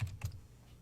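A few quick keystrokes on a computer keyboard, two soft close clicks followed by quiet, with no one speaking.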